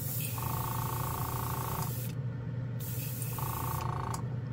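A small, inexpensive airbrushing air compressor on the floor hums steadily with a low drone, while a brief hissing tone rises and stops twice, like air being released.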